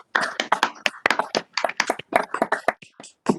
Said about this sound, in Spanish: Pido un aplauso con micrófono abierto.